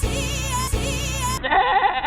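A goat bleats in a long, wavering, nasal cry that holds steady and then shifts into a higher quavering call, loud and close.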